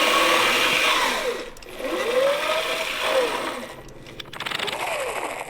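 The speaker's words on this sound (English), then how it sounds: "There was a private cranking a generator to provide power for an army radio in the field." Old army hand-cranked field generator, the kind once cranked to power a field radio, whirring in surging waves whose pitch rises and falls with each turn of the crank, close and loud with brief dips between pushes.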